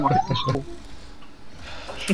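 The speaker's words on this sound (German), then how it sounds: "meine Katze ist im Schlaf gerade vom Katzenbaum gefallen" A house cat cries out with a short, close meow-like sound right after tumbling off a cat tree in its sleep, with a voice talking around it.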